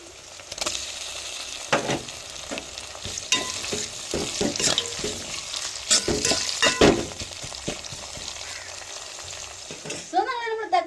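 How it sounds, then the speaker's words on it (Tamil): Sliced onions and green chillies sauté in a hot pan, sizzling steadily while a spoon scrapes and stirs them with frequent clinks and scrapes against the metal. "வெங்காயம் பச்சை மிளகா வதங்கி வந்துருச்சுன்னு வந்துருச்சு வச்சு இந்த தக்காளி சேர்த்துக்கிறோங்க"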